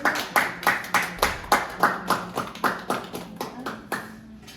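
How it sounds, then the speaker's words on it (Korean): A church congregation claps in unison after a prayer during a worship service. About a dozen evenly spaced, crisp group claps form a steady rhythm, with a faint hum underneath. "하나님께 감사와 영광의 박수"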